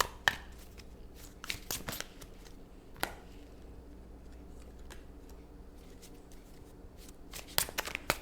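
Tarot cards being shuffled in soft, quick bursts of riffling and slapping, close and quiet, clustered at the start and end with a calmer stretch between.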